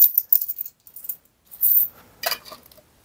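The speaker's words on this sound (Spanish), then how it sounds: "Tenemos aquí 5 euros en monedas." Five euros' worth of coins from a minimalist survival cache kit clink and jingle in several short, sharp bursts close by, with brief pauses between handlings.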